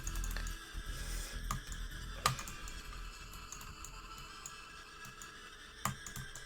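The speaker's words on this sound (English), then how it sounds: "It's just the mouse click" Quiet clicking from a computer mouse during a live game stream, a few soft scattered clicks with two sharper ones over a low steady background hum.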